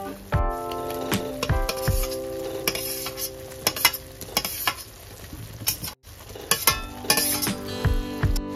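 Fried cauliflower and potato tipped into masala in a pan and stirred, with a spatula scraping and clinking against the metal over a steady sizzle, close and busy throughout.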